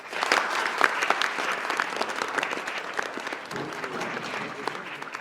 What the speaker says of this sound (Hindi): एक बार आपके लिए जोरदार ताली।